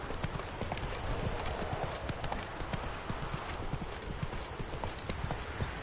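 Roach the horse clip-clops along steadily in The Witcher 3, a dense, continuous run of hoofbeats at close range with no talk over it.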